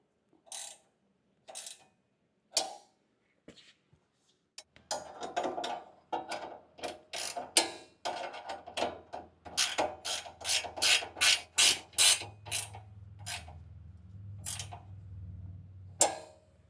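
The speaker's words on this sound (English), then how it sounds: "Now I'm going to come back through and tighten these up with my wrenches here" Wrenches tighten the bolts of a brush guard on a tractor, giving a run of quick metallic ratcheting clicks in bursts, close and fairly crisp, with pauses between sets.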